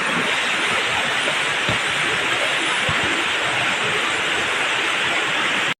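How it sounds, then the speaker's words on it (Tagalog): Waterfall at Pangil, Laguna, producing a steady, loud broadband roar of falling water that continues unbroken throughout, with a couple of faint low thumps underneath. "Ayan yung falls na pupuntahan namin"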